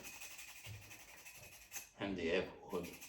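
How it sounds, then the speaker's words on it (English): Abrasive sanding on a 3D-printed ABS plastic part, a few short raspy rubbing strokes that grow louder and denser toward the end, heard close up and fairly quiet. "So sanding ABS is amazing."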